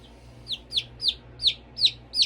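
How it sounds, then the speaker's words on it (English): A pet bird named Beatrice chirps six times in a steady rhythm, each call a short, close, fairly loud rising tweet over a quiet low background hum. "you hear her chirping"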